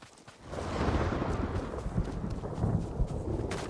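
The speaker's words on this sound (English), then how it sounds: "Who else likes to listen to thunder and rain and stuff?" A deep rolling rumble of thunder swells and lingers over a wash of steady rain in a video game, with no voices.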